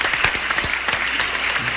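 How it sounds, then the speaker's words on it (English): A brief burst of studio applause on a talk radio show, a short rush of clapping with a few distinct hand claps, close and fairly loud, lasting under two seconds. "let's give them all a round of applause."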